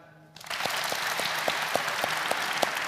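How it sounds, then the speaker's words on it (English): A church congregation at a Sunday celebration service breaks into clapping on cue, starting abruptly after a brief quiet moment and holding as steady, fairly distant applause from many hands with a few distinct louder claps. "So if I point the microphone at the crowd, you're allowed to clap, okay?"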